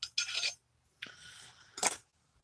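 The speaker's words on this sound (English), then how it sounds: "put that in the grinder" A handheld herb grinder twisting cannabis gives three short, close gritty rasping bursts separated by brief silences, with no talking.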